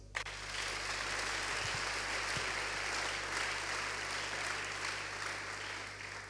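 A church congregation applauds together, a dense steady wash of clapping that holds evenly for several seconds.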